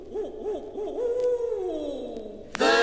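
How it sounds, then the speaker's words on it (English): Hoot owl calls in a Jimmy Newman country recording: a run of short wavering hoots, then a long sliding tone that falls away, ending in a sudden loud burst of sound. "the hoot owl in flight"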